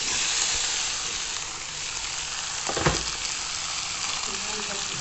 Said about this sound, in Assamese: মাংসখিনি ইয়াতে দি দিম।